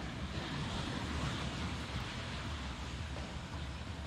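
Surf washing onto a beach on the Panama coast, a steady, dense roar of waves with some wind noise, continuous and fairly close throughout, with no talking.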